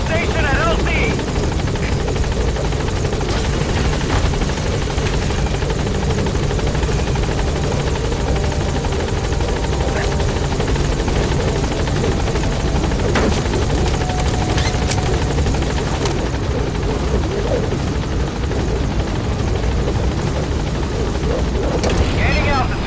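A helicopter in Metal Gear Solid V approaches a landing zone, its rotor roar loud and continuous throughout while a voice speaks over it.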